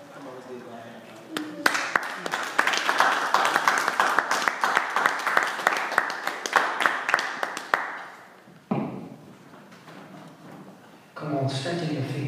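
Church congregation breaking into sustained applause and clapping in praise, a dense loud wash of hand claps that swells, fades, then resumes, with voices and music mixed underneath.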